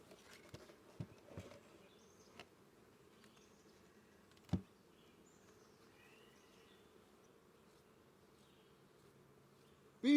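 Honey bees around an open hive give a faint, low, steady buzzing hum, punctuated by scattered soft knocks and thuds, with a sudden louder sound at the very end.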